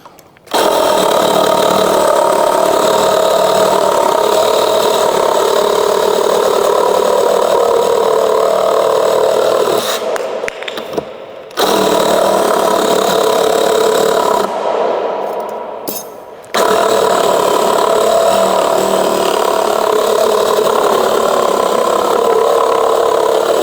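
A power saw runs loud and steady as it cuts through 35 by 90 mm pine timber, with two short pauses where the motor drops out and then starts up again.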